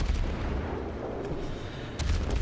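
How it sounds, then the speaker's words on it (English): Heavy battleship shells from a World of Warships naval battle rumble and boom in a continuous low roar, with a fresh burst of impacts near the end, no voices. "incoming battleship salvo, which we didn't notice, the Kiernish in the back trying to take us out"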